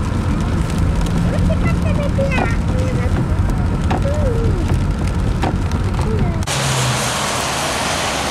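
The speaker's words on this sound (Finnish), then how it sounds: "Sataa." Steady rain pours down around a car on a Sunday drive, a dense continuous hiss and patter with occasional louder drops and a low engine rumble beneath, while a voice talks over it.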